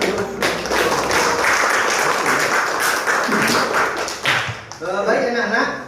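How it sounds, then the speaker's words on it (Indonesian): Students in a high school classroom applaud together, a loud burst of clapping that holds steady for several seconds before tapering off, with voices coming through near the end. "Nah, kita beri aplaus."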